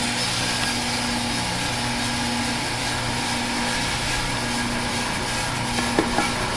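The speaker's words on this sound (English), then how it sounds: "Now we are releasing the green beans into the drum." A commercial coffee roaster runs as its drum spins freshly loaded green beans, making a steady, loud mechanical hum and whir with a constant motor drone and faint rattling, unbroken and without speech.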